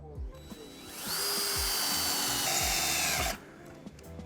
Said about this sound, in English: And then we're just gonna drill all the way through this.